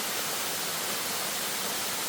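Wibong Waterfall in Korea, viewed near its lower pool, pours with a dense, steady broadband rush of falling water, continuous and close, with no other sounds.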